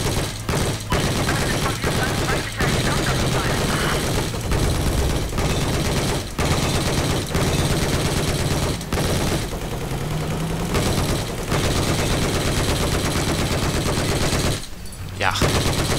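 Continuous automatic gunfire in the Battlefield 4 online multiplayer video game, loud rapid bursts nearly nonstop throughout with short gaps, dense and close, with a voice occasionally talking over it.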